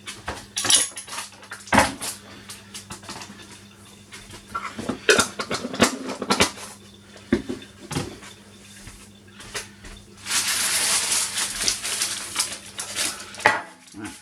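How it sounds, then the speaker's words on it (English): Metal sheet pans clank, scrape and rattle as they are picked up and set down, with sharp knocks scattered irregularly and a brief rushing hiss midway. "So I'll bring over my sheet pans."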